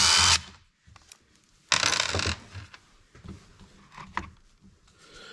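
Hand and power tools working on a Husqvarna 345 chainsaw being taken apart: short bursts of whirring drill or driver noise separated by quieter gaps with small clicks, ratcheting and metallic taps, close up and without speech.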